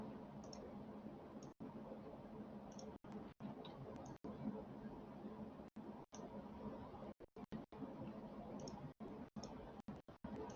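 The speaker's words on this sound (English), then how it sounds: "Pretty straightforward, you know, just click, click." Computer mouse clicks while drawing in AutoCAD 2020, a string of sharp, close, quiet clicks at an irregular pace over a faint steady room hum, with no talking.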